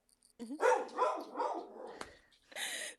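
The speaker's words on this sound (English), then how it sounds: "Sorry, my dog." A pet dog barking indoors during a podcast recording, a run of close, loud barks and yips followed by a short pause and another bark at the end.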